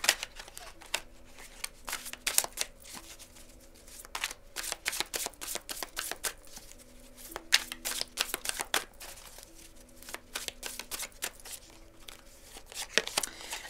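Oracle cards of the angel-wisdom and light-card decks are shuffled by hand, giving a close, soft series of riffling flutters and papery slaps in uneven bursts against a quiet room.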